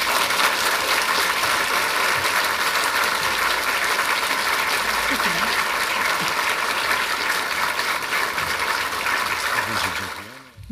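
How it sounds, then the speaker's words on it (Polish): Sustained applause from an audience at a university jubilee ceremony marking a century of pharmacy teaching in Poznań, a steady dense wash of clapping that continues for about ten seconds before cutting off abruptly. "wielkie brawa dla oznaczonych"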